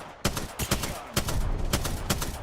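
Rapid gunfire in the Apex Legends video game while under attack, a string of sharp close shots in uneven bursts, loud and alone.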